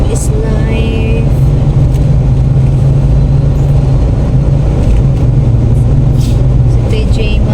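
Car traffic crawling on a road near a concert, a steady loud low engine rumble and road noise filling the whole stretch, with faint voices and small clatters on top.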